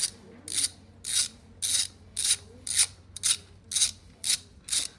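Ratchet wrench tightening the oil drain screw on a Honda FX 650 engine, about nine crisp bursts of rapid clicks in a regular rhythm, close and clear.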